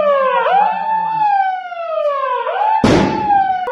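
A mock drill air raid siren in Hyderabad wails in rising and falling sweeps with a harmonic tone, loud and sustained, with a sharp burst of noise near the end.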